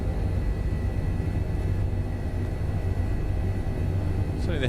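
Simulated H145 helicopter in Microsoft Flight Simulator gives off a steady, loud low rotor and turbine rumble that stays constant throughout, with no speech over it.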